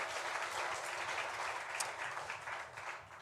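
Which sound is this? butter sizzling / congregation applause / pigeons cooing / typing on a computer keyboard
congregation applause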